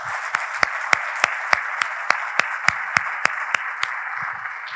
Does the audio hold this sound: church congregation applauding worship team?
yes